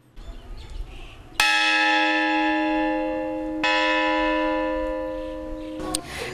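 A large bell made from a bomb casing is struck twice, each ringing strike leaving a long, rich metallic hum that decays slowly, with a faint third tap at the end.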